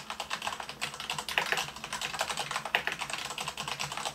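Rapid, irregular clacking of keys on a mechanical computer keyboard, typed close up at a steady pace with a few sharper strokes, no voices over it.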